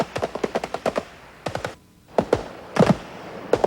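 Gunfire crackles in short, rapid automatic bursts during a Turkish commando ambush training exercise. Several sharp volleys arrive close and loud, separated by brief pauses.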